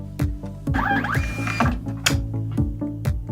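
A Honeywell PM43 thermal barcode printer runs off a test label with a quick, even series of mechanical clicks and ratcheting whirs, close and clear with no talk.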